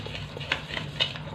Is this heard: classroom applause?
no